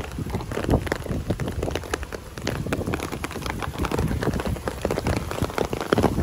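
Rain falls steadily outdoors in a hilltop town, a dense patter of drops hitting surfaces, fairly close and continuous, with no speech.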